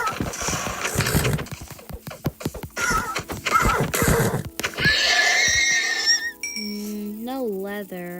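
A horse in the game Minecraft whinnies loudly near the end, a rising and falling neigh, following a stretch of busy clicks, footsteps and clatter from the game.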